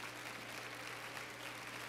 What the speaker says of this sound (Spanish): Y dele un aplauso.